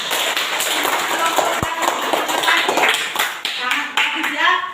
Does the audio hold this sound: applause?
yes